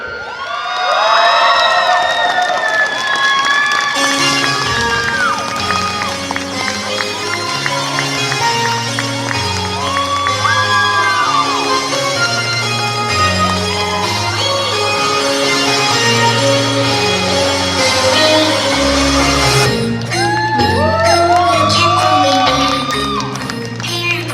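A large convention audience at VisionCon 2022 cheers, whoops and claps loudly for cosplay contestants, with children shouting among the crowd and music playing underneath; the roar is steady throughout and swells again near the end.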